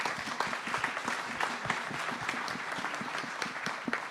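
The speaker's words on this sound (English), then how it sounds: "So quick round of applause for the Team Facebook" A quick round of applause from a seated audience at an organization event in a Facebook facility: dense, even clapping from many hands, close and steady for the whole stretch, with no talking.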